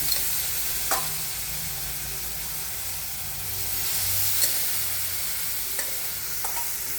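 Cooked green beans stirred in a hot pan, a steady sizzle with occasional scrape and clink of the spoon, no talking.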